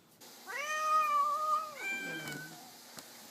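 A big gray cat with a crooked tail gives one long, drawn-out meow that bends downward at the end, close and clear against a quiet outdoor background.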